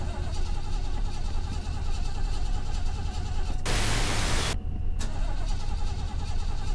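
Engine of an old car revving in the horror video game Fears to Fathom, a steady loud drone with a brief burst of hiss midway.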